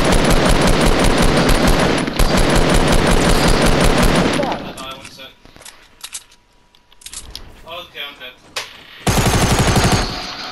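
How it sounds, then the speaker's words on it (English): Minigun fire in the Fortnite video game, loud continuous rattling bursts for about four seconds, then sparse quieter game sounds, then another sustained burst near the end. "Break him down with your minigun."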